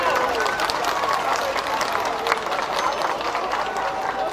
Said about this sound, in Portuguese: Com os aplausos do povo.